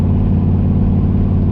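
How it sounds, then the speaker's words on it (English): A car fitted with a massive new turbo and an unfinished exhaust drives along, its engine a steady, close, loud rumbling drone that holds throughout with no voices. "We are jumping ahead to the first drive with the new turbo."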